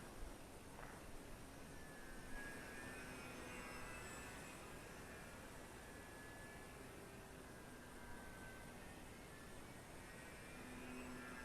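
A Fun Cub 1100mm-wingspan EPO RC plane with a RacerStar BR2212 1400kv motor flies slowly, its faint, wavering electric-motor whine rising and falling against a steady wash of wind noise, with no talk.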